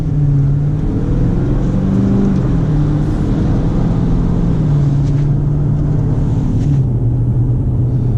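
A 2019 Dodge Challenger Widebody Scat Pack engine drones loudly and steadily while driving, a deep continuous rumble with slight rises and falls in pitch, heard from inside the car with no talking.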